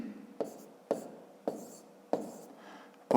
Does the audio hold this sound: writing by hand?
yes